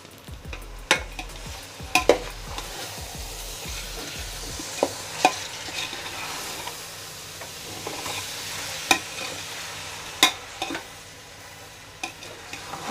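Chicken is stirred into masala in a pan for chicken dum biryani, with sharp spoon scrapes and knocks against the pan every second or two over a low, continuous sizzle.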